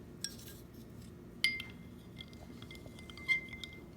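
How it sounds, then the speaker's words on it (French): A spoon stirring milk into water in a drinking glass gives a few separate bright clinks against the glass, with quiet stretches between them and no talking. "Donc, je peux utiliser un peu de lait. Et je vais mélanger."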